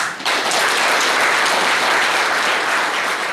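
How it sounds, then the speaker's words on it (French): A crowd applauds at a political gathering in Côte d'Ivoire, with dense, steady clapping that rises quickly and holds loud and full throughout, with no speech over it. "je voudrais que vous-même vous applaudissez."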